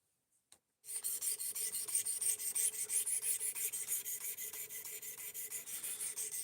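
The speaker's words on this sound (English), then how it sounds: "second time we're sharpening" An Elmax steel knife blade is drawn across a sharpening stone in steady, rhythmic rasping strokes, close and clear, starting after a brief silence and continuing without talk.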